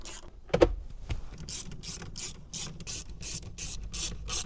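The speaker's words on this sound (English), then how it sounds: "Now I'm gonna put each of my Torx bits back in here to mount the glove box." Torx screws are driven in by hand to mount the glove box of a 2014-2018 Chevrolet Silverado truck, with a sharp knock and then a steady run of quick, close ratcheting clicks, and no talking.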